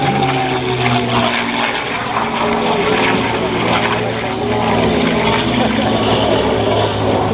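A propeller airplane being taken up into the air, its engine droning steadily and loudly throughout with a constant hum and broadband roar.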